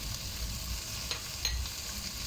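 Beef ribs for a sweet and sour dish fry in a pan with a soft, steady sizzle and occasional stirring scrapes. The sound is faint and close, and no one speaks.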